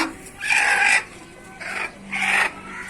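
A hen clucks while being handled, giving two or three loud, close bursts of agitated clucking separated by brief quiet gaps.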